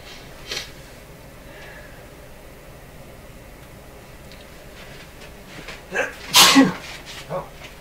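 A single sharp human sneeze bursts out near the end, preceded by a couple of small breathy build-up sounds, over a faint steady background hum.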